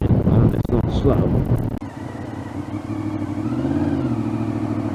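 Honda VFR750 motorcycle, a 27-year-old bike with 62,000 miles, revving up under acceleration as rider's speech fades out, then a steady rising engine drone with wind rush continuing for several seconds.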